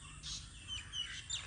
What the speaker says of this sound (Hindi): कोयल आ रही है,